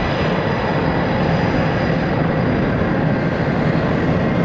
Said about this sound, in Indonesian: Pesawat tempur.